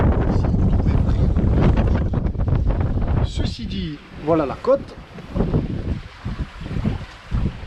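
Strong wind buffets the microphone aboard a sailboat crossing from Tarrafal to Preguiça off São Nicolau, Cape Verde, a loud steady rush with water noise that eases midway while someone speaks French over it.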